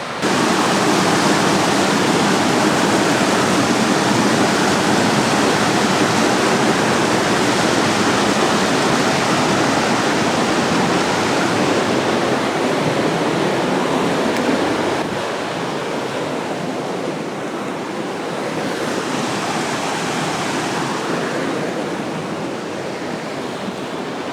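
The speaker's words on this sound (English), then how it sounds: "they can't hear me because this creek's so loud" Loud, continuous rush of a snowy mountain creek in Washington elk country, a dense steady roar that drops slightly in level partway through, with no voices.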